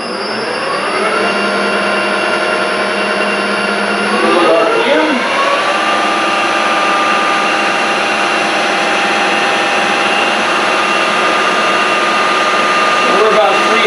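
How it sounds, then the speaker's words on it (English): A metal lathe cuts threads at 10 threads per inch with a loud, continuous mechanical whine and a steady tonal hum, its pitch shifting slightly partway through as someone talks over it. "I set it for 10 threads per inch, it's going to go really fast."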